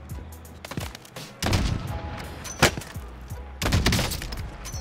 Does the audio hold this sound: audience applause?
no